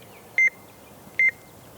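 Carp fishing bite alarm gives two short, clear electronic beeps about a second apart, fairly loud against a quiet outdoor background, with no talk.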